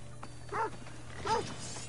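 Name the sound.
dog barking and attacking in video game Assassin's Creed Odyssey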